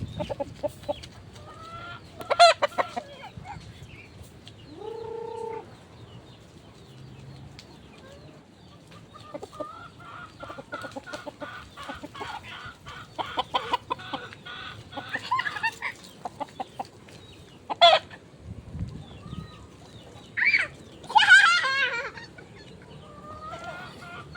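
Chickens cluck and squawk close by in scattered bursts, with a sharp cackle near the end, over a quiet outdoor background.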